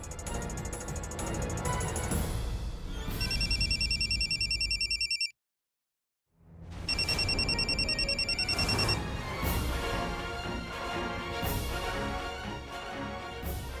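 A telephone rings in repeated electronic trills over a busy background of music and noise, with a brief silent gap mid-clip before the ringing resumes.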